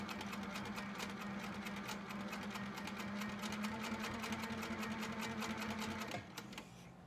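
A mid-arm quilting sewing machine stitches in a fast, steady, rhythmic chatter for about six seconds, then stops near the end with a softer hum left over.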